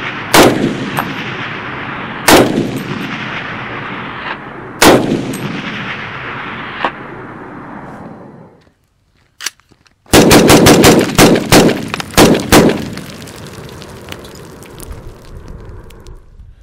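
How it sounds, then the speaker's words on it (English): Bushmaster ORC AR-10 .308 rifle firing tracer rounds outdoors among rocks: three loud, well-spaced shots with long echoing decay, a brief lull, then a rapid string of sharp cracks. "I've got five tracer rounds I'm going to shoot through this up in the rocks up here"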